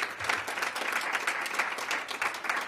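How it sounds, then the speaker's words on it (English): Audience applause for a council member at a mayor's office event, a dense, steady round of clapping from a room full of people, moderately loud and sustained without talk. "Give her a big round of applause."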